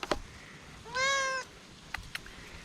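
Cat stuck up in a cat tree gives a single clear, drawn-out meow, fairly close, with faint rustling before and after and no talking.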